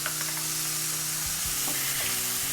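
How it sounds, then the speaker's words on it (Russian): Steady, close sizzling of meat frying in a pan with thyme, rosemary, garlic and bay leaf, with occasional stirring and scraping noises over the continuous hiss. "сейчас на сковороду отправляем тимьян, розмарин, чеснок и лавровый лист, чтобы они сейчас обжарились с мясом"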